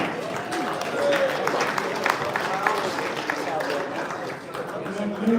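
Audience applause at a boxing press conference for Canelo and Berlanga: a dense, steady wash of clapping from the room, with crowd chatter and a voice running through it.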